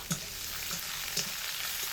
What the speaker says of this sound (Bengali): এবার রসুনের মধ্যে দিয়ে দিচ্ছি পেঁয়াজ কুচি, কাঁচা লঙ্কা কুচি